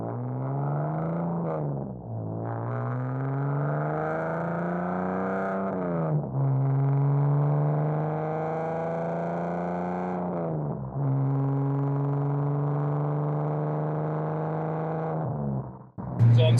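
A BMW with a 3-inch straight-pipe exhaust drones loudly and steadily while driving, rising in pitch through several gear pulls with brief dips at each shift, heard close with no talking.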